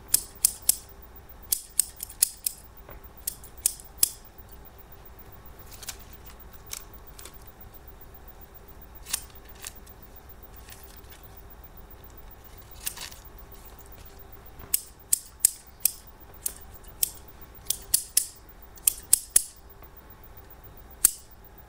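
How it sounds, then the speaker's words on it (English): Sewing scissors, including a crinkle-edged pair, snip in irregular bursts of sharp, crisp clicks, sometimes in quick runs of several cuts, against a quiet background. "So here's another pair of those crinkly scissors"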